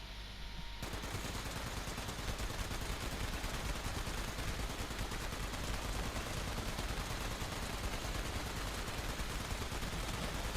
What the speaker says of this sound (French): Tirez directement avant qu'il nous attaque.